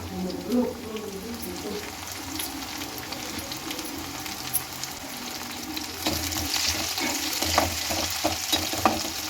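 Thinly sliced ginger and green chillies fry in a pan with a steady sizzle, stirred now and then with scraping clinks that grow more frequent toward the end, no voice over it.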